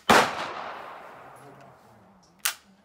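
A KSG shotgun fires at a gun range: one loud, close blast with a long decaying echo, then a second sharp shot about two seconds later, with faint voices in the background.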